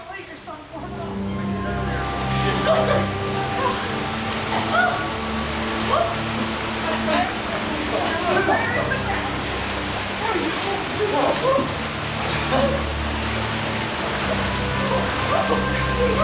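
Near-freezing creek water flows steadily in a wild northern river setting, a broad continuous rushing wash close by that stays constant throughout, with no talk over it.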